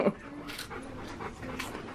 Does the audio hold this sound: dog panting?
yes